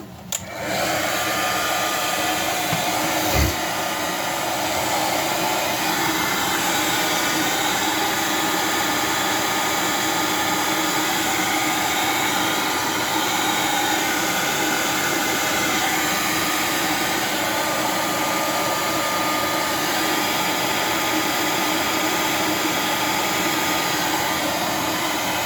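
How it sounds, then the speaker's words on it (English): A heat gun used outdoors in cold weather blows hot air in a loud, continuous roar close by. A brief knock comes near the start, and no voices are heard. "I'm just going to use the heat gun"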